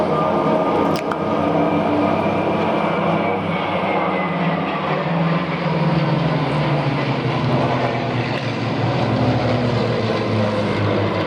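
Messerschmitt 109 propeller fighter flying a display at the Duxford Flying Legends air show in 2015, its engine a loud, steady, continuous drone that shifts slightly in pitch as it passes, with no talking.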